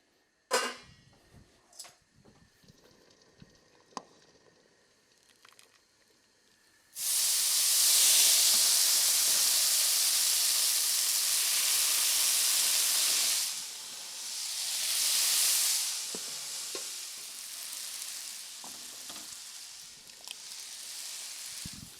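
Cacio e pepe cooking in a hot pan gives off a loud, sustained hiss of steam and sizzling that kicks in abruptly after a quieter stretch of small clatters, then eases and swells again.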